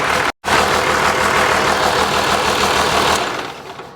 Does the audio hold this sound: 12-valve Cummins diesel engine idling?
yes